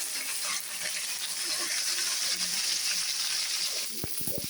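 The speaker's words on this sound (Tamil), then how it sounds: "இப்போ தக்காளி போட போகிறோம்." Tomatoes tipped into a pan of sizzling curry give a steady, close frying hiss throughout, with a few brief clunks of the ingredient landing and utensil contact near the end.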